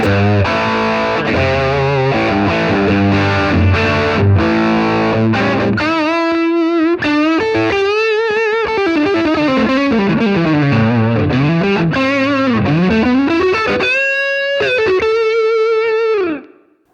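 Electric guitar through an overdrive pedal imitating a cranked Marshall amp plays heavy crunchy chords, then a gritty sustained lead with bends and vibrato, loud and close.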